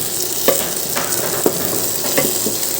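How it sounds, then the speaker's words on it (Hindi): Keema frying in a pan with onion and tomato, a loud steady sizzle broken by a few sharp scrapes of stirring, with no talk. "कीमा को भी प्याज में अच्छी तरह से फ्राई करना है।"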